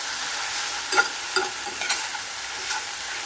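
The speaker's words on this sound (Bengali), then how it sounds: "যখন এটা অনেকটাই ভাজা ভাজা হয়ে যাবে তখন আমি এর মধ্যে পেঁয়াজ কুচিটা লম্বা লম্বা করে কেটে দিয়ে দিলাম।" Vermicelli with long-sliced onions stir-fries in a pan, a constant crisp sizzle broken by several sharp scraping strokes of a spatula, close and clear with no voices.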